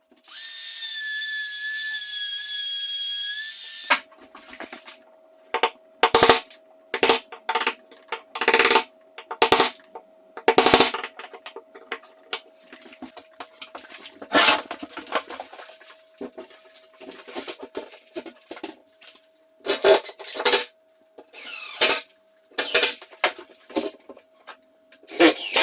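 Carpenter chopping out door hinge recesses with hand tools, a series of sharp, close knocks and scrapes in irregular bursts with pauses, after a brief stretch of an electronic tone.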